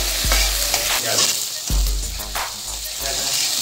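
Beef sizzling and being stirred in a traditional iron karahi over high heat, a loud continuous frying hiss broken by several sharp scraping stirs of the spoon against the pan.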